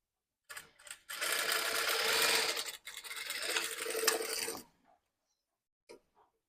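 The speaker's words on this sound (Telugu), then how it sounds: "ఇలా పెట్టుకొని ఒక స్టిచ్ చేసుకుంటున్నాం." A sewing machine stitches a blouse seam in one fast, continuous whirring run of about four seconds, close and loud, followed by a few faint clicks.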